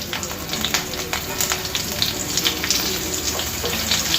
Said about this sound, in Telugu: ఆయిల్ వేడైంది కదా, ఇందులో ఒక హాఫ్ స్పూన్ వరకు ఆవాలు, అలాగే ఒక హాఫ్ స్పూన్ జీలకర్ర, ఒక పచ్చిమిర్చి ఇలా కట్ చేసి వేసుకుందామండి